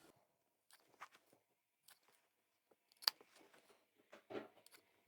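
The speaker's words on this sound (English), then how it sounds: "let's trim our corners" Scissors snip the corners of stitched fabric stiffened with stabiliser, giving a few quiet, separate crisp cuts with short gaps between them.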